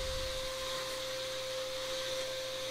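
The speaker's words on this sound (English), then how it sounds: "Here I'm releasing the clamps, vacuuming off some of the sawdust." A vacuum cleaner runs continuously while sucking sawdust off the bed of a Shapeoko 2 CNC router, a close, steady whining drone with a constant pitched hum and no talk.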